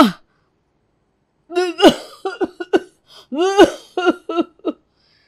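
A few short harsh coughs and throat-clearing bursts from dust, close and fairly loud, separated by brief pauses.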